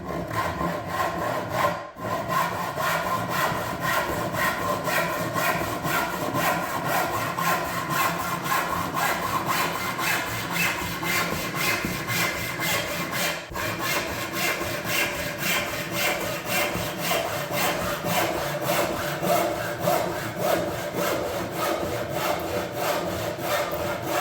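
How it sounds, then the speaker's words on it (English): A hand saw cuts freehand through a wooden door lining, making steady, close back-and-forth rasping strokes that carry on almost without pause, with a couple of brief breaks. "Just freehand that off with a saw."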